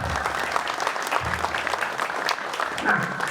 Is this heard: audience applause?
yes